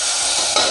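Garlic browns in hot oil in a pan for a traditional Malvani alu fadfade dish, giving a loud, close, steady sizzle with a brief stirring scrape.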